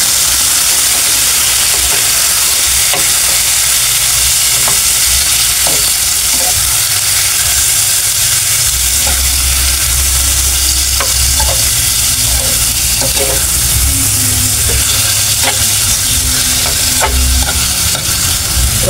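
Squid sizzles loudly in a pan with nearly burnt garlic and onion, a dense continuous frying hiss with scattered pops and crackles and the scrape of stirring, close up with no talking.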